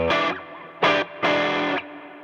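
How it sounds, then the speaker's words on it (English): A guitar played through a Vox Cambridge 50 modeling amp with spring reverb, three loud distorted chord stabs with short reverberant tails, close and alone. "Then it has spring reverb."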